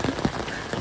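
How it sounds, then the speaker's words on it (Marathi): Heavy monsoon rain pouring down in a flooded residential area, a dense, steady roar of drops drumming on surfaces close by, with no voices in this brief moment. "पावसानं परत एवढा घाण धुमाकूळ केलाय."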